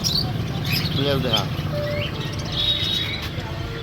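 White fantail pigeons coo softly in a busy pet shop, the low murmuring calls mixed with chirps from other birds under a steady background of shop noise.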